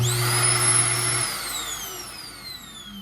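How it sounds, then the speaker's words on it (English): An RV's built-in vacuum hose switches on with a sharp whine that rises into a high suction hiss, then settles lower and fades slightly as it keeps running, all without speech. "if you want to do it manually with the vacuum hose, you can just put the vacuum hose on there and turn it on"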